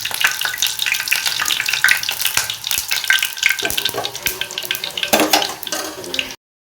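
Phool chingri bora, batter-coated prawn fritters, bubbling and crackling in hot oil, a dense, steady loud sizzle with frequent sharp pops that stops abruptly at the end.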